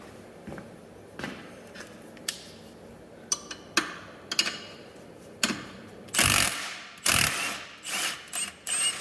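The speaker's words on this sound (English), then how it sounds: "We can loosen the bolt on the bottom side and get it swapped right out." A wrench loosening the lower shock bolt on a Jeep Wrangler JK, with scattered faint ratchet clicks and metallic clanks, then a few louder scraping, clattering bursts near the end.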